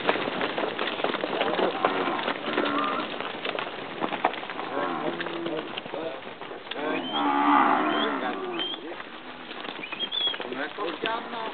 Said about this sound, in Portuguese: Boi é tudo boi.